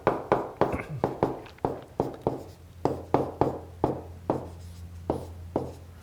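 Marker or pen writing a math formula on a board, a series of sharp taps and short strokes in an irregular rhythm, close and moderately loud, with a low hum underneath and no talking.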